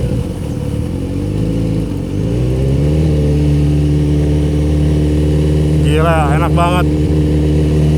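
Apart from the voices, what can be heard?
Kawasaki Z900 RS motorcycle accelerating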